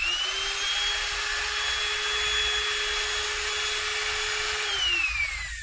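A DCA 105W mini die grinder running, a loud steady high-pitched electric whine that holds for several seconds, then shifts and drops as it winds down near the end, with no talking.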